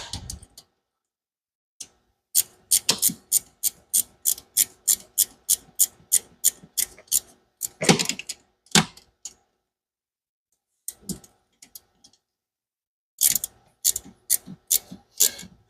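Ratcheting box-end wrench turning a fitting while tracking down an oil leak on a turbo 460 Mustang, sharp close clicks in quick rhythmic runs, broken by silent pauses and occasional clunks.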